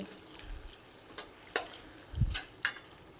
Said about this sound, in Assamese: এয়া মাংস বনাই আছে মই বাৰু অলপ লৰাই দিওঁ